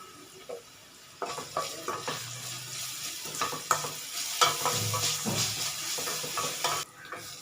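Onions sizzling in a pan with a little salt for a dried-fish (karuvadu) curry, stirred with repeated scraping clinks of a spoon against the pan, close and busy over a steady frying hiss.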